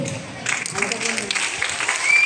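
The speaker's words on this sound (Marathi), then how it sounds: "जोरदार टाळ्या झाल्या पाहिजे" A group claps loudly for someone who has just recited the multiplication table of 99, a dense, continuous burst of applause with voices mixed in.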